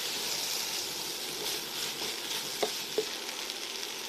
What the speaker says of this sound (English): Stir everything through and then add the cauliflower, and then make sure to coat all of the cauliflower with the korma paste.